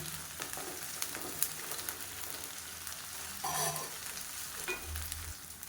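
Onions sautéing in a pan for a side dish, a soft, low sizzle broken by occasional scrapes and taps of a stirring spoon, with no voices.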